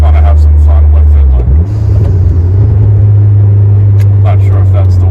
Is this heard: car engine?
yes